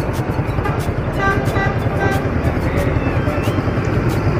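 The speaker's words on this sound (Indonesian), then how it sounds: "Dan bus Bagom beranjak." A Bagom bus pulls away from a stop on the road toward Tulungagung, its engine a steady loud rumble with faint tonal whine and regular clicking pulses throughout.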